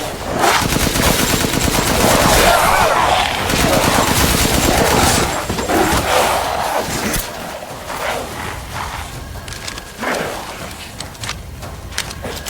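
Video game gunfire in Resident Evil Village, loud rapid bursts of shots mixed with game effects and music, with a player talking over the action.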